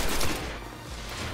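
Gunfire in the video game Destiny during a multiplayer Crucible match, a loud burst of rapid shots at the start that eases into a steadier, quieter rattle of continued firing.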